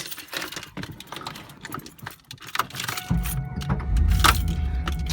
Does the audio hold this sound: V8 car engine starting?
yes